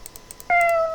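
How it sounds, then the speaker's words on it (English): A Scratch cat meow sound effect, sped up, gives one short, bright, high-pitched meow after a few faint ticks, then holds briefly and fades. "because I had the meow highlighted there. This is that sound effect for that."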